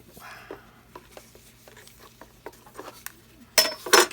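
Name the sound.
stirring acrylic pour paint in a cup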